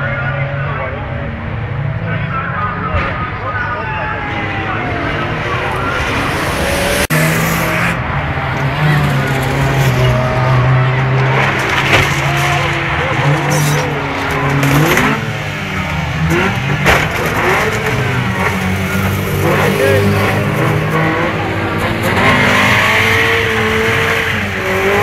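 Cars race one another while towing caravans, engines droning and revving with occasional tyre squeal, sustained and fairly loud throughout, with voices talking over the action.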